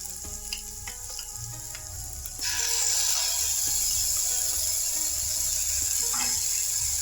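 Egg bhurji mixture frying in a pan, a steady close sizzle that suddenly grows louder and hissier partway through, with occasional scraping and stirring clicks of a utensil against the pan.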